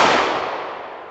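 One loud, sharp shot from an American Tactical FXS-9 handgun fired outdoors at a target, with a long decaying tail and no voices.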